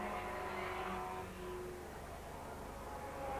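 Production saloon race cars at Mondello Park in 1985 heading down toward Shell in a tight group, their engines a moderately distant, sustained droning roar that swells and fades slightly as they pass.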